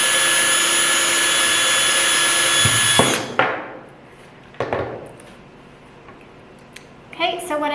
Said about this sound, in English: I used a drill bit to drill a pilot hole